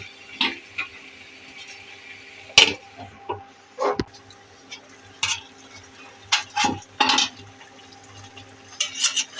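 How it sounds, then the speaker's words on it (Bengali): Bottle gourd and snakehead fish curry stirred in a pan, with intermittent scraping and wet sloshing strokes spaced irregularly against a faint low hum, fairly close and with no talking. "এখন একটু লাড়া দেব।"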